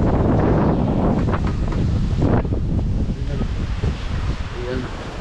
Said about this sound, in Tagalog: grabe kalakas ang hangin ay